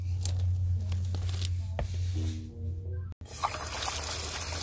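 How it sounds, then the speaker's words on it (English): Water trickles and drains from a frost-free outdoor faucet after being shut off, a steady close liquid hiss with a low hum, then a brief break and a thinner, airier dribble. "You can see when I shut the water off, it still drains a little bit."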